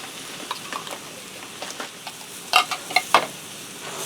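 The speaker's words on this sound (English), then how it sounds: "I'm going to give that a stir to get the soup and the sour cream mixed in" A spoon stirs cream of potato soup and sour cream in a cast iron skillet over a soft sizzle, with a few sharp scraping clinks against the metal near the end, close and without talk.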